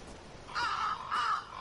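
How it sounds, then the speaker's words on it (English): A murder of crows in the video game The Last Door, two harsh caws in quick succession over a faint ambient background, fairly close and clear. "Oh, a murder of crows is eagerly eating something."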